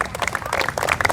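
A church congregation claps and cheers in a quick burst of applause, lively and close, filling the room.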